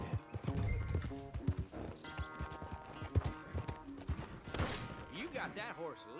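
Horse hooves clip-clop at a walk in Red Dead Redemption 2, steady close thuds mixed with creaks, a whinny and background music, with voices talking at points.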